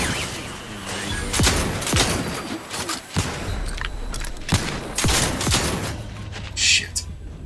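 Repeated bursts of gunfire in the video game The Outer Worlds, several loud shots spaced irregularly over a steady background, with a player occasionally talking.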